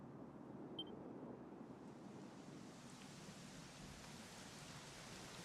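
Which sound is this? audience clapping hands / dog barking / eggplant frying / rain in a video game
rain in a video game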